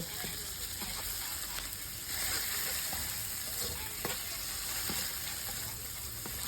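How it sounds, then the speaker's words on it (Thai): Shrimp stir-fry in a pan for Thai rad na with pork and vegetables, a close, steady frying sizzle broken by soft scraping stirs at irregular moments. "จากนั้นนะคะใส่กุ้งนะคะลงไปผัดค่ะให้สุกเลย"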